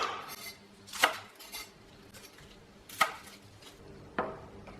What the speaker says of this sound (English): Next we've got some spring onions. And I'm just going to cut it into quarters.